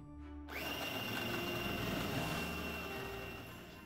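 An electric blender kicks in abruptly and whirs steadily for a few seconds, a loud close motor drone as feta cheese and garlic are blended into a smooth paste, with no voices.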